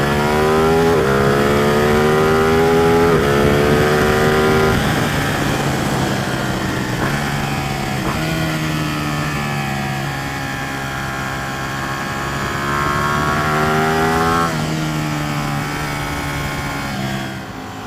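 Ducati 899 Panigale sport bike engine revving repeatedly, each rev rising to a high-pitched wail and then dropping back, loud and close with no talk.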